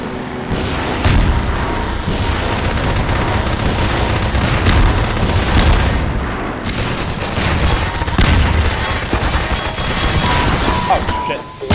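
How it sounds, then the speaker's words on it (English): Sustained heavy minigun fire in the Half-Life 2 video game, a dense continuous roar of rapid shots with booming impacts throughout, loud and close, with only brief dips in intensity. "the fucking minigun is so fucking powerful. It just wrecks them all"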